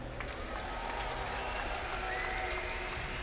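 Esports crowd at a Starcraft 2 match at Gamescom applauding, a dense continuous wash of clapping and cheering from a large hall, steady and fairly loud throughout the short stretch.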